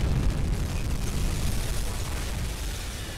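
A torpedo strikes a ship in a naval submarine video game, producing a dense, sustained low rumbling boom that fills the whole stretch at steady loudness.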